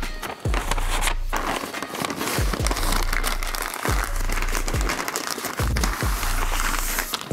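Barbecue-sauced ribs are wrapped tightly in paper, giving close, loud crinkling and rustling in repeated bursts along with soft thumps of handling.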